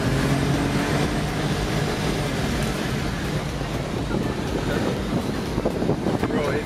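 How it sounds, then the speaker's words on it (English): A BMW 335i with the N54 twin-turbo engine and aftermarket downpipes accelerates hard under a flashed tune. It gives a loud, steady, jet-like roar with turbo whoosh throughout, close to the microphone and with some wind buffeting. "all you hear is the turbo whoosh from the induction sound every time"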